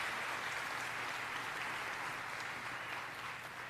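An indoor audience claps for a Native drum group at an annual Martin Luther King Jr. celebration, a steady, dense wash of applause throughout.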